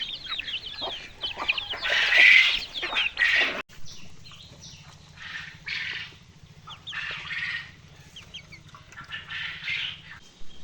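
Desi chickens on a free-range farm cluck and squawk nearby in loud bursts early on, then quieter intermittent clucks over a low steady hum.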